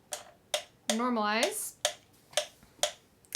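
A metronome ticks in a steady, crisp pulse about every half second for Irish fiddle clap-along practice, close and clear, with a brief spoken word cutting in between the ticks.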